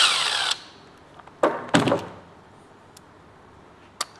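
A tool loosens a nut and bolt on a Kia/Hyundai V6 engine during cylinder head removal, giving a short loud whir at the start and then two sharp bursts of metallic working with quiet gaps and a faint later click.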